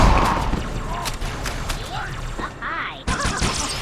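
Halo 2 combat, a loud grenade blast and dense gunfire crackling in rapid bursts with chaotic crashes, close and continuous under game voices and a shouted warning.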